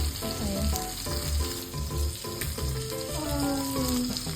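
Chopsuey vegetables being stir-fried in a pan give a busy sizzle with rhythmic stirring scrapes and tonal hum, steady and close, with no speech over it.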